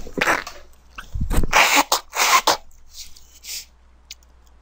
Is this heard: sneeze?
yes